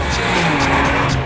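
A Nissan 370Z taken hard through corners at high speed, its engine roaring loud and steady with tyre squeal running throughout, close and alone with no talk.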